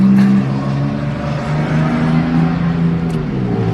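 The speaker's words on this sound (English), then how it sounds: "That's a loud car." A loud car roars past nearby on a street, a strong rumbling engine drone that swells at the start and holds steady as it passes.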